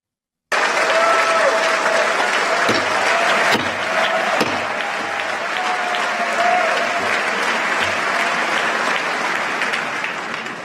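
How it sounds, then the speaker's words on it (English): Members of Congress applaud a foreign leader, the Prime Minister of Israel, in a joint session: dense, sustained clapping from a large chamber that starts abruptly and continues steadily for about ten seconds, with occasional louder claps standing out. "clapping for a foreign leader."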